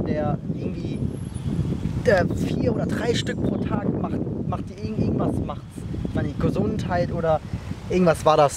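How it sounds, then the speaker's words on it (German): Outdoors, gusts of wind buffet the microphone and cause low rumbling and rustling under a person's continuous speech. "sorry für den Wind wieder. Das ist ja ein bisschen sehr windig."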